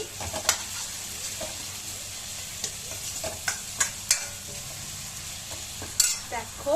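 Onions and tomatoes softening in a frying pan give a steady low sizzle, broken by scattered clinks and scrapes of a spoon stirring; a single brief spoken word cuts in partway through.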